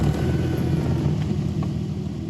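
A Volkswagen Mk1/Mk2 engine idling after an alternator replacement, a steady low rumbling hum close by with an even, unchanging note and no talking.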